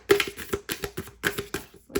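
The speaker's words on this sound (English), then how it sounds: "these are hard to shuffle." Oracle card decks being shuffled by hand, a series of quick riffling bursts in an uneven rhythm, close and fairly loud, with short pauses between them.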